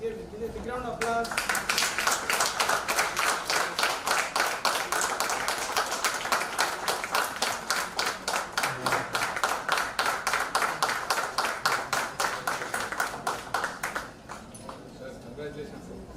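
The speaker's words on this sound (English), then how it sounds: "Big round of applause." Audience at the TSPSYCON-2024 medical conference in Nizamabad gives a long round of applause after a medal handover. Dense clapping runs steadily for about thirteen seconds, then thins out, with rhythmic individual claps standing out and some talk underneath.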